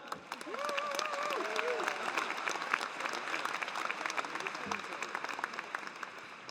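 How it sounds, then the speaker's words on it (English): Sustained applause from a large crowd at a 2015 RMIT University graduation ceremony in Melbourne, steady and full for several seconds, with a voice briefly heard over the start. "Can we have a big round of applause for everyone that's graduating today?"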